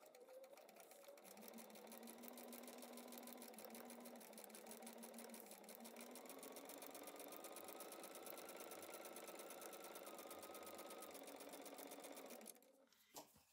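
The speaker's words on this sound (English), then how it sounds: "Okay, I'm going to go sew it and we'll be done." A sewing machine stitches fabric for a back-to-school door banner, running in one long continuous whirring burst of rapid needle strokes, close and steady, then stopping abruptly near the end.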